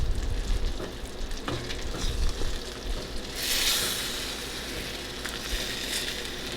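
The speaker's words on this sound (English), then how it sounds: "I'm going to stir it up." Potatoes frying in a pan while being stirred, with a steady close sizzle and a brief louder scraping burst midway.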